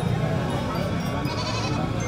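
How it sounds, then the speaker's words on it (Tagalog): Many goats at a livestock stockyard bleat and murmur in a dense, continuous chorus, a busy crowd of animal calls layered together without a break. "Marami nga talagang kambing dito"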